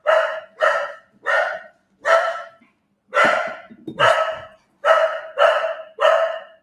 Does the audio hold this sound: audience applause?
no